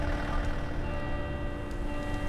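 Church bells ringing at night in the Fernbus Simulator bus driving game, a steady, continuous peal with sustained tones under a constant low rumble.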